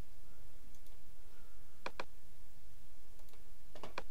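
Mouse clicks on a checkbox control in REALbasic: crisp, close clicks arrive in quick pairs and small clusters, separated by short quiet gaps.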